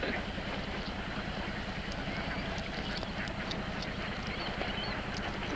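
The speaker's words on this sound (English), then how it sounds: "Spend the rest of your life feeding ducks?" Ducks quacking near water, a steady chorus of overlapping quacks over a dense, constant outdoor background, with faint voices mixed in.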